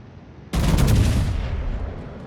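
A huge naval gun salvo booms out in a warship battle game as the USS Minnesota fires its big shells, one sudden loud blast followed by a rumbling, rolling decay.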